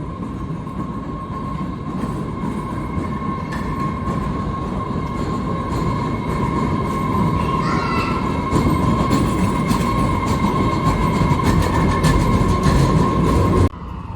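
Steady rumbling of a metro train in motion, with a constant high whine and rattling wheels, loud and close throughout until it drops off abruptly near the end.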